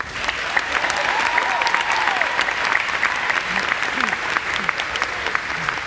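Steady, dense applause from an audience congratulating newly elected officials at a Massachusetts Boys State assembly, sustained clapping throughout with faint voices mixed in.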